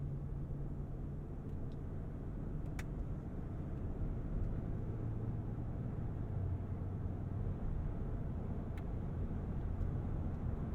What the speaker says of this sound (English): I am noting a fair amount of wind noise, acknowledging that this is not an aerodynamic shape.